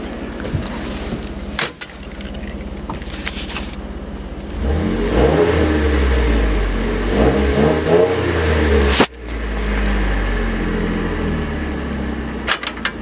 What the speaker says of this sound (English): it's about time that we hear how this awesome exhaust sounds